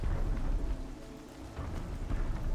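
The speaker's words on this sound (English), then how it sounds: "It's raining." Rain and thunder in the Horizon Zero Dawn video game: a steady wash of rainfall with a low, rolling rumble underneath, continuous and fairly close, with no voices.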